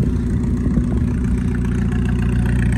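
A Mercedes Gazelle replica classic motor carriage runs its engine loud and near, with a steady low throbbing idle and no voices over it.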